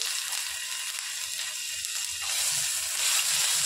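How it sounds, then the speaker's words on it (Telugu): Ginger garlic paste sizzles in a hot pan for restaurant-style lahsuni methi, a steady close crackling hiss that grows a little louder toward the end. "పచ్చి వాసన పోయేంత వరకు బాగా వేయించుకోవాలి"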